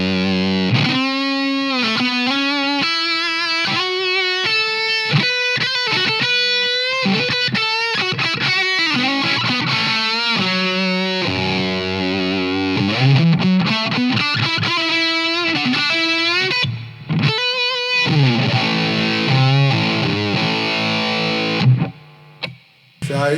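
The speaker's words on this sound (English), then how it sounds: "and the big position gives you more of that fuzz" Electric guitar played through a fuzz pedal set to its big position, giving thick, blooming distorted tone; loud, continuous playing of chords and single notes, alone with no talk, ending in a short pause.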